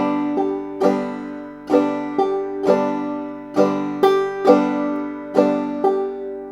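A clawhammer banjo plays a steady dum-ditty pattern, all strings struck together in even, bright, ringing strums that repeat about eight times and stand alone without talk.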